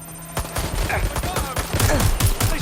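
Rapid bursts of automatic gunfire are aimed at the player in Watch Dogs: Legion, close and loud, with overlapping volleys of sharp shots and impacts through a tense action scene.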